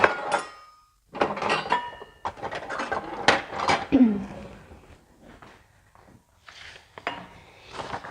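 Metal measuring spoons and measuring cups are picked up and set down on a kitchen counter. Sharp clinks and rattles come in quick bursts, separated by short quiet gaps, close and fairly loud.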